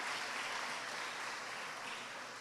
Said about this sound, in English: Let us give them a round of applause.